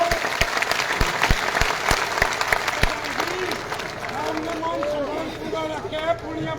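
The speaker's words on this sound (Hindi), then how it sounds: "प्रधान जी के लिए जोरदार तालियां।" Crowd applause for a village head at an outdoor political rally: sharp, loud claps open the stretch, then blend into a continuing clapping roar with people talking and chanting over it.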